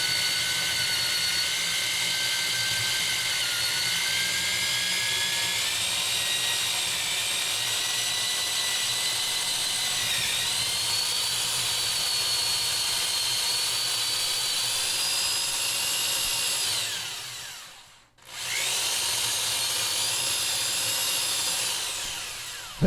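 A drill fitted with a drill guide bores into wood while building a dance pad, a loud, continuous close-up whine running on at length, dropping out briefly near the end before starting up again.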